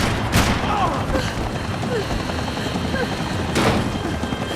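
Gunfire in the video game Max Payne 3: a couple of loud, sharp bursts stand out over a dense, steady bed of game noise, with voices calling out between them.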